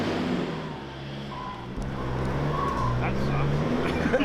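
A Nissan Navara 4WD labors up a rough track with a steady engine drone and revving shifts close by, while people talk over it.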